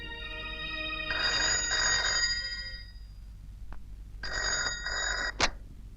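An old-style telephone bell rings in two bursts separated by a pause, loud and close, with a brief sharp click at the end.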